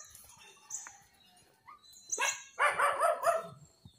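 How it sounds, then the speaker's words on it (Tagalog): Dog barks in a rapid burst of several loud, close yips and barks outdoors, preceded by fainter chirpy sounds, with no talk. "Ay, may aso."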